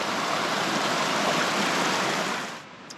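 Mountain creek water in North Cascades National Park rushing steadily nearby, a loud broadband wash that fades slightly toward the end, with no talking.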